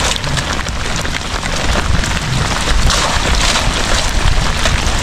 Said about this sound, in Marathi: जोराचा पाऊस आलाय.